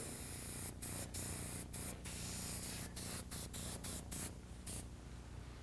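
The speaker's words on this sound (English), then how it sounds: "So you can use your airbrush." An airbrush sprays paint in short bursts of steady hiss, repeated several times and then running longer near the end, close and clear with no talking.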